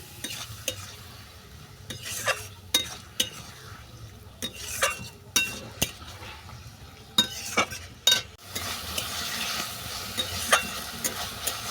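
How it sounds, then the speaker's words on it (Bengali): Dried red chillies, torn green chillies and spices are sautéed for a vegetarian teasel gourd curry, with a low sizzle under a steady series of sharp spatula scrapes and clinks against the pan, and no talk. "দিলাম ছেঁড়া কাঁচা লঙ্কা আবার এই সমস্ত উপকরণ ভালো করে কষিয়ে নেব"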